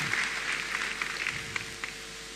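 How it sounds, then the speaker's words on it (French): A church congregation applauds for Jesus Christ during a healing service, a steady dense wash of clapping at moderate level with a few sharper individual claps standing out. "Applaudissons pour Jésus-Christ."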